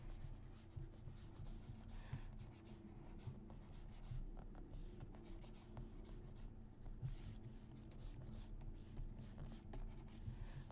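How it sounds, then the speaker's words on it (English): A pencil sketches a character on paper in close, quiet scratchy strokes, with short bursts of rubbing and scraping that repeat through the passage and no voices. "just gonna sketch in a character real quick and get the proportions down"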